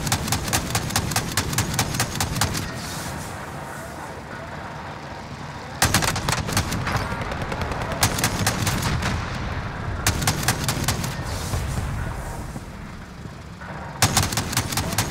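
Anti-aircraft gun in Warzone on the Caldera map firing in long, rapid, rhythmic bursts, loud and close, with short pauses between bursts and a booming rumble underneath.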